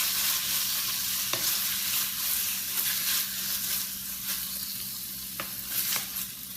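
Pork stir-fries in an Amway iCook pan, crackling with a steady close sizzle marked by a few sharp spatula scrapes, with no speech.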